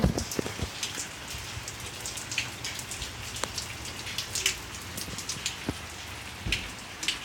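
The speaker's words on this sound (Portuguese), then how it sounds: "tá garoando um pouquinho aqui" Light drizzle falls in São Paulo, a steady soft patter of fine drops on surfaces with scattered sharper drips, close and fairly quiet, continuous throughout with no voices.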